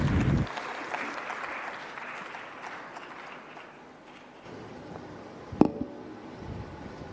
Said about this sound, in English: so can we give her a bit of a round of applause?